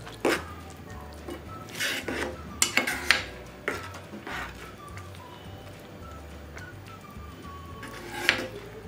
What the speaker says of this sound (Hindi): जो पहले से ही घी में फ्राई करके रखा कैरेट को। और खीर में मिक्स कर दूंगी।